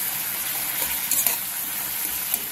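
Potato and drumstick pieces fry in oil and spice paste, giving a steady close sizzle with a few sharper crackles and stirring scrapes, and no voices over it.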